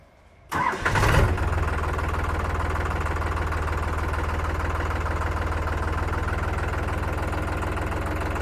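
A New Holland tractor engine cranks and fires after a short silence, then settles into a loud, steady, throbbing idle through its silencer, close by and alone.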